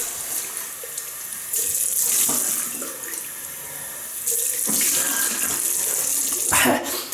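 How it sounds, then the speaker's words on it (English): Tap water runs into a sink for a cold rinse after a shave with a double-edge razor, a steady close splashing flow that swells and surges in bursts, with no talking. "That was a cold water rinse."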